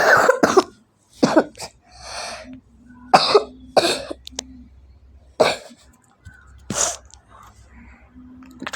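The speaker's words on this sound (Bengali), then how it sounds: "একটু কাশি হয়েছে আমার।" Several loud, sharp coughs from an adult burst out in separate fits, some close together in pairs, with quiet gaps and faint room noise between them.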